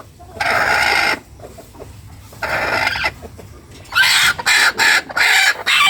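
A hen near a nesting spot clucks loudly close by in several drawn-out bursts, then a run of quick, choppy clucks.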